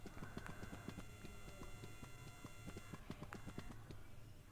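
Horse hooves gallop in the Free Fire video game, a quick, steady clip-clop run that stays fairly faint and even throughout.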